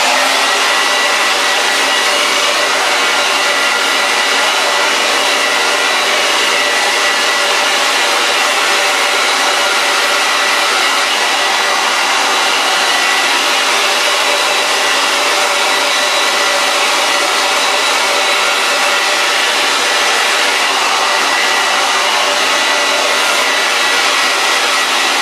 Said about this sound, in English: And then get your blow dryer.